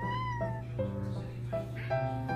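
A cat meows several times in a row, each call a clear drawn-out wail close to the listener, with a low steady hum in the background.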